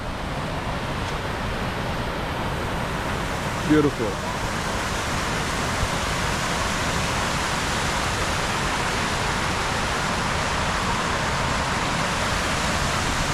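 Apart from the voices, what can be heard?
water fountain splashing at Rockefeller Center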